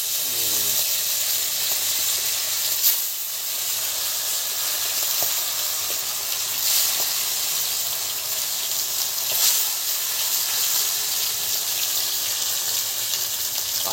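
A large shimul fish sizzles steadily in hot oil over a wood fire, a dense continuous frying hiss with occasional louder crackles and pops, close and uninterrupted throughout.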